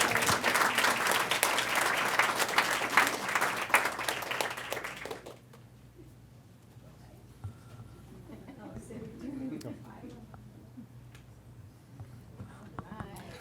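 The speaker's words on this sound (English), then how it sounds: "let's give them a big round of applause again" Audience applause at a school board meeting, a dense burst of clapping filling the room for about five seconds before breaking off, followed by quieter room sound with faint voices and a low steady hum.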